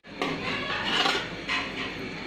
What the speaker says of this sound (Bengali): আমি গাজর এবং পেঁপে যেটা ব্লেন্ড করা ছিল সেটা ফ্রাই প্যানের উপর দিয়ে দিয়েছি